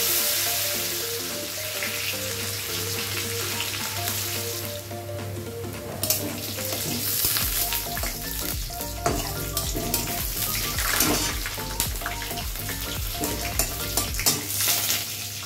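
Crushed garlic fries in oil with nigella seeds in a pan, steady stirring clatter and scraping over a constant sizzle, close and fairly loud; no talking.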